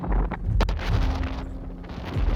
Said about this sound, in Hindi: हवा बहुत तेज़ हो रही है,